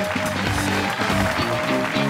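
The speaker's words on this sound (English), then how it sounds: "Let's have a round of applause for both teams." A high school quiz show audience applauds both tied teams, Acton-Boxborough and Needham, with a steady, fairly loud burst of clapping mixed with a short musical sting.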